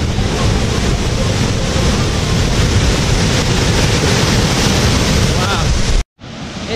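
El Tingo waterfall in Cayambe, Ecuador, near the Mitad del Mundo, makes a loud, steady close-up roar of falling water that runs unbroken and drops out only briefly near the end.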